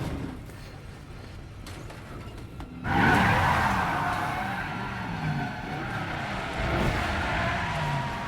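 A car skids and pulls wheelies in the video game Resident Evil Biohazard, with a loud sudden tire squeal and revving engine that keeps whining and sliding through the rest of the moment.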